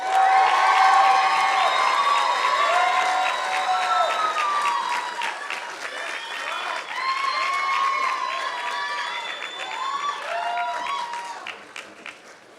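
Loud applause and cheering for UCI Law graduates at a 2017 commencement, with whoops and high shouts rising over steady clapping that ebbs and swells across a large crowd.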